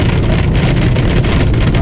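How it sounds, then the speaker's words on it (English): Hail drums steadily on a truck as a dense, loud, unbroken patter up close. "Oh dear, that's hail."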